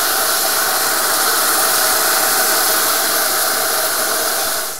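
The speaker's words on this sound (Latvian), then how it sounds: "Tad, kad rīsi ir apcepušies un tie jau ir karsti, roku vēl var noturēt, tad ir jāliek klāt vīns." White wine hits hot toasted risotto rice in a pan for a creamy saffron risotto, giving a loud, steady, hissing sizzle that holds throughout before easing off at the very end.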